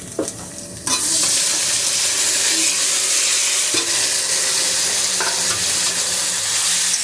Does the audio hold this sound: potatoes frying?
yes